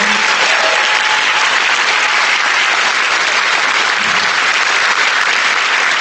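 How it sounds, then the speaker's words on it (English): Steady, dense applause from a large crowd at a city mayoral candidate forum fills the whole stretch, loud and continuous with no talking. "Let's give them all a round of applause for the fact that they're working hard"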